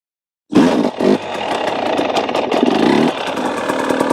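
A hard enduro dirt bike fires up after a moment of silence, revving in a couple of quick blips, then holds a low, steady idle and putter during slow full-lock turns in a backyard, close and loud.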